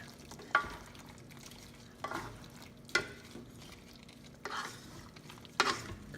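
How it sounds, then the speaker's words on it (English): Spoon stirring chicken afritada in a pan, a few separate scraping strokes at intervals over a faint, low simmering sizzle, close and quiet. "We'll give it a stir."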